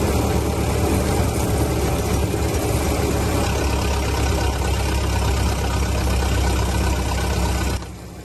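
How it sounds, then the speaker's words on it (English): Engine of a 1914 Ford Model T running with the exhaust cutout opened to bypass the muffler, giving a loud, steady rumbling drone close by that drops off abruptly near the end. "Sound you heard there is an exhaust cutout."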